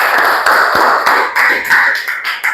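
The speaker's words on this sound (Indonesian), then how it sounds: "Tepuk tangan dong." A class of students applauds loudly and close by, a dense patter of many hands clapping continuously for a couple of seconds.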